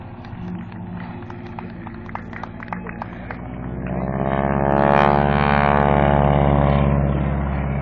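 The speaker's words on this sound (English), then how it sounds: "We will loop the airplane with Rachel on the top wing" A propeller biplane flies overhead at an air circus during a wing walking stunt. The engine drones steadily, then swells louder and nearer toward the middle as the aircraft passes.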